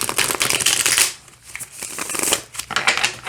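Tarot deck with flexible, springy cardstock being riffle-shuffled up close, two bursts of rapid papery flutter separated by a brief pause, no talking.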